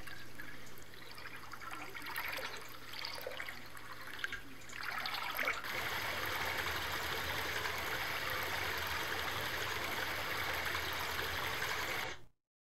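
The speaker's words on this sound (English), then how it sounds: "most of the water effects, especially the ones that you want to play continuously, are under ambient environmental" Ambient looping water stream from a video game map, a steady rushing flow that swells in after a quiet start and runs continuously at moderate level before cutting off abruptly.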